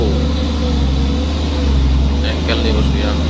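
A Fuso single-axle 4x2 dump truck with thick exhaust smoke rumbles along the road, its engine drone loud and continuous for a few seconds with road noise underneath.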